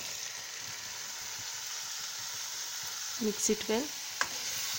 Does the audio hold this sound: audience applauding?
no